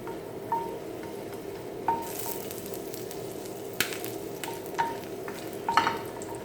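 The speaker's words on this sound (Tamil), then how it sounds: "பெருங்காயம் வந்து நல்லா பொரிச்சு எடுத்துக்கணும்" Asafoetida frying in a pan of oil, a steady close sizzle broken by a few sharp scraping stirs and light clinks of a spoon against the pan.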